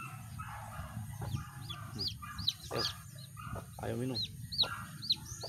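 Small chicks peeping with repeated high, thin chirps scattered across the clip, close by, over a low background of hens clucking while someone speaks briefly.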